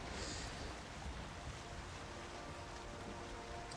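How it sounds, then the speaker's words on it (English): Rain falling while sailing an open, roofless ship in a video game, a faint, even patter and hiss with a low watery wash underneath, steady throughout and without talk. "We are both wet because it is raining while sailing, and we don't have a roof on our ship."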